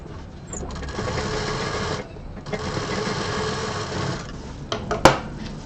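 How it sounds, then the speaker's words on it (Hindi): A sewing machine stitches three quilted handbag pieces together. It gives a steady, close whirring run, a short pause, a second long run and a sharp click at the end. "और अब इन तीनों को मिला करके यहाँ पर सिल देना है।"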